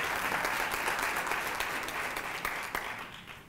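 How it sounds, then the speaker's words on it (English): Audience applause at a university lecture event in Johannesburg honoring Dr. Brigalia Bam, a dense, steady wash of clapping from a large hall crowd that holds for several seconds before starting to taper. "I think we should give her a round of applause."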